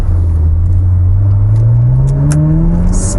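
A Ferrari engine accelerates hard, its loud close rumbling roar climbing steadily in pitch as it revs up over a few seconds.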